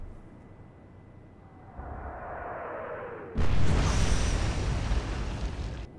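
Bismarck battleship guns fire in a naval battle game, a rising whistle giving way to a loud, sudden booming blast that rolls on as a heavy rumbling roar for a couple of seconds before cutting off.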